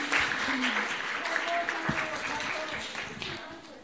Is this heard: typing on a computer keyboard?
no